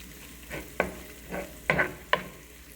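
A spoon scrapes through thickening sausage gravy in a pan over low heat, making four or five soft, rhythmic stirring strokes over a faint sizzle.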